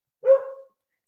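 A single close bark from a chocolate Labradoodle, short and clear against an otherwise quiet background.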